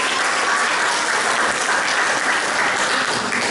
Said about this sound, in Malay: boleh tak berikan tepukan yang hebat kepada kawan-kawan baru kita